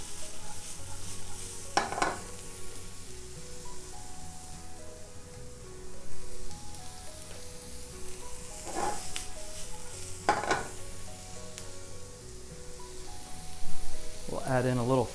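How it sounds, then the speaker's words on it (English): Aromatics sweating down in a pan over medium-low heat, a soft steady sizzle with occasional stirring scrapes and clinks, fairly quiet and close. "we're gonna sweat these aromatics down until they're nice and caramelized"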